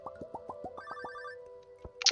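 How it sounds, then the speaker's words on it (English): A telephone rings in the Stardew Valley video game, a rapid string of bright electronic ring pulses repeating in a quick pattern, ending with a short sharper chime, clear and alone without talk. "Oh, the phone's ringing."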